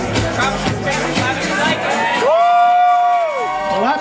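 A poolside bikini contest crowd cheers and whoops over babble, then a single loud whistle-like whoop rises and holds, with voices talking throughout.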